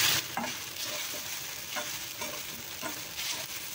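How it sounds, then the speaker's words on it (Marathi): Sabudana khichdi stirred and fried in a pan, a steady close sizzle running throughout with repeated scraping strokes of the spoon against the pan, no voices. "आता छान मिक्स करून घेते आणि छान फ्राय करून घेते"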